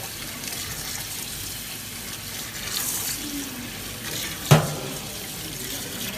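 Tap water runs steadily over cooked spaghetti in a kitchen sink, a continuous close gush with one brief clunk partway through.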